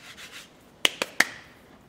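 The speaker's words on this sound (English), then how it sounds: "so we'll just rub it in kind of evenly" Paint is rubbed into a surface with soft brushing strokes, followed by three sharp taps or scrapes in quick succession, close and moderately loud with no talking.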